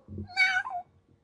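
A voice imitates a single short cat meow, clear and close, with a bright rising-falling tone and nothing else around it.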